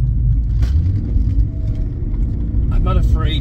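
A 1986 Porsche 928 fitted with an aftermarket exhaust rumbles with a loud, steady low engine tone, close by, with a brief voice and faint squeaky sounds near the end.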